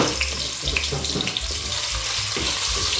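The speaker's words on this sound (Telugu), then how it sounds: "ఆయిల్ వేడెక్కింది ఇప్పుడు దీంట్లో నేను పన్నీర్ ఏదైతే ఉందో అది వేసేసుకున్నాను" Paneer cubes dropped into hot oil for a paneer makhana masala, giving a steady broadband sizzle and hiss with a few soft pops, close and fairly loud throughout, no voices.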